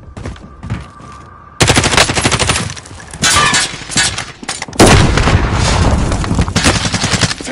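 Gunfire in the video game Warzone, loud, close bursts of rapid automatic fire with heavy booms, starting after a brief quieter stretch and continuing in dense volleys.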